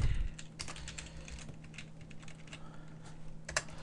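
Quick, irregular clicks of keys being typed on a computer keyboard, moderately close and fairly quiet, with no one speaking.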